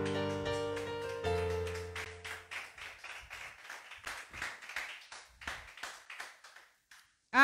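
Congregation at a church service clapping in rhythm to acclaim the Lord after a held sustained tone fades, steady sharp claps in a regular beat, moderately close.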